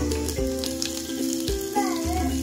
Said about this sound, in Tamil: கடுகும் ஜீரகமும் நல்லா வெடிக்கணும்.